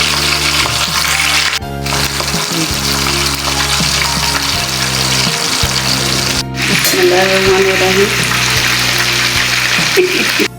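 Mutton seekh kababs fry in a pan with a steady, loud sizzle that runs through the whole stretch. Someone talks over it and moves the kababs about.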